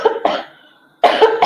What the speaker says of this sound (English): all of a sudden my allergies want to go up and I'm coughing and all of that now